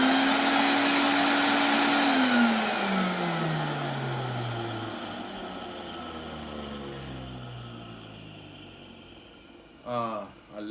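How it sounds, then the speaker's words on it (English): An Electrolux ZA65 vacuum cleaner motor whines loudly, then falls in pitch as it winds down after being switched off, with a brief voice near the end. "We're going to switch it on so we can listen to the motor."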